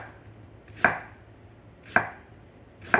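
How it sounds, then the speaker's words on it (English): A knife chops sweet potatoes into quarter-inch slices on a cutting board, with three crisp, evenly spaced thuds about a second apart, close and clear against quiet room tone. "So now we're going to chop up the potatoes, and I tell you to make them into about 1/4 inch slices"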